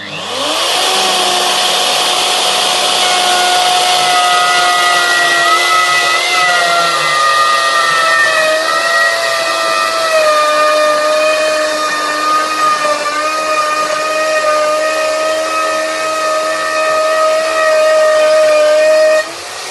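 A router cuts roughly 10mm into a kitchen worktop through a jig, a loud, steady high-pitched whine that holds for the whole stretch with slight pitch dips as it bites into the material.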